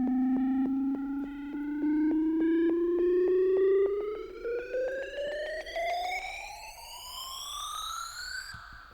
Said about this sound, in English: this extra riser before the second drop